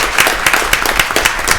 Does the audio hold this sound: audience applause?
yes